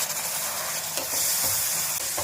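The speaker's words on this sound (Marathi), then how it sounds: "मसाल्याला तेल सुटेपर्यंत छान फ्राय करून घ्यायचे" Ground masala paste with amchur, coriander-cumin powder, turmeric and sugar fries in hot oil with a loud, dense sizzle and spatula stirring scrapes close up.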